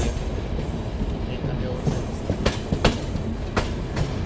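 A freight train with a locomotive rumbles past with rhythmic clickety-clack of wheels over rail joints and a faint metallic squeal, steady and fairly close, in Argentina.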